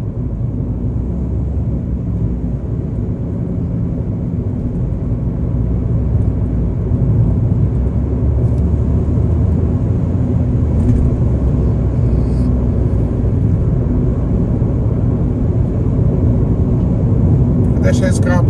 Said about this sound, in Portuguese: Deixar esse carro passar.